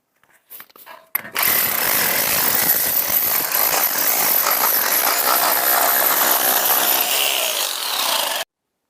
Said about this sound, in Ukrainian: прочищаю штрабу перфоратором